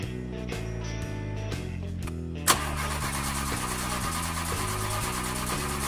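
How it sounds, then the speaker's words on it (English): A cartoon car engine cranks in short, stepped bursts, then catches with a sharp pop and settles into a loud, rhythmic idle with a repeating pulse that carries on to the end, with no voices. "All right, let's start the car and go."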